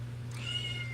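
A cat in heat gives a single short, faint meow under a steady low electrical hum, lasting under a second.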